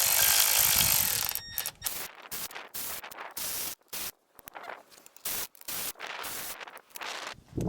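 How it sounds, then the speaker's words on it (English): A Milwaukee ratchet runs up 10mm bolts on the timing cover of an ASV PT-100 forestry skid steer, giving rapid mechanical clicking bursts broken by short gaps, close and fairly loud. "I'm going to use my Milwaukee ratchet here just to run them up."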